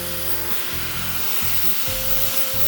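Capers and their brine sizzle steadily in a hot pan, a loud, continuous frying hiss with faint stirring scrapes underneath and no talking.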